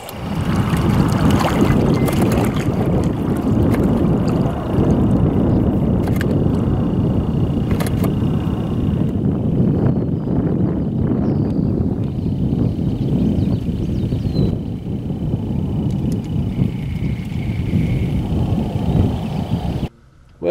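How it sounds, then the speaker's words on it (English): Strong wind gusting across a pond, a loud continuous roar of buffeting rumble on the microphone that holds steady for the whole stretch and drops away only at the very end, with no talk. "it's so windy out"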